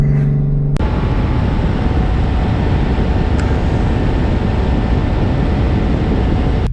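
A loud turbocharged BMW E36 engine runs steadily and close, a deep continuous roar that holds without pause after a brief different sound at the start.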